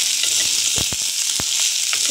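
Chopped onions fry in butter with curry leaves and green chillies for an okra kara kuzhambu, giving a steady, close hiss of sizzling fat with a few soft stirring clicks.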